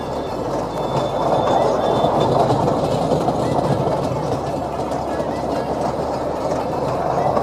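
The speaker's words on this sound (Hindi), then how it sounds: "हमारी ट्रेन चल पड़ी। तो उसकी स्पीड को कंट्रोल करने के लिए हम यहाँ से करेंगे, इसके डीमर से। ठीक है, जैसे देखो मैं स्पीड बढ़ाता हूँ।" Kids' ride-on toy train for events and parties running steadily, its rolling rail-like clatter and motor hum loud and continuous as the speed is turned up on the dimmer control.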